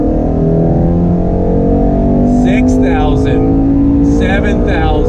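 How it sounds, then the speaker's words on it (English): A 2019 Ford Shelby GT350 engine climbs in pitch as the revs build under throttle on a track, a loud steady in-car drone with someone talking over it. "On throttle, the revs build."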